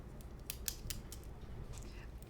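A pen scratching across a writing surface during a math lesson on the discriminant, giving a series of short, dry scraping strokes at close range with no voice over them.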